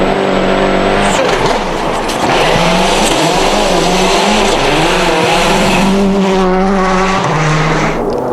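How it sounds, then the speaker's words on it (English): A rally car on tungsten-studded tyres races on snow at the 2006 Rally Sweden, with a loud, close, high-revving engine rising and falling through gear changes and tyre noise, sounding alone. "the cars still attain a high level of grip thanks to nearly 400 tungsten studs moulded into the tyres"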